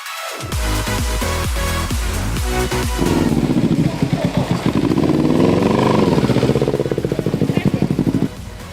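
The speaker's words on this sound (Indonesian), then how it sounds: "Ini dia deh hobi aku, main motor." A modified sport motorcycle engine idles loudly and close, with a throbbing, pulsing beat that turns into faster rhythmic revving. Music or a voice sits faintly underneath.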